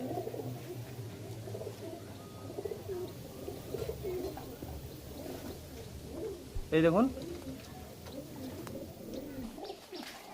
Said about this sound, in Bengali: পায়রা স্ট্যান্ডিং দেখুন কেমন।